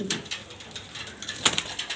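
Male pigeons kept for sale coo softly nearby, with a few low throaty calls and a brief sharper burst partway through the short stretch.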